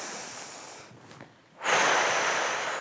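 Audible inhale during a breathing exercise, one close, strong breath drawn in through the nose and mouth, rising sharply after a short quieter pause and held for about a second.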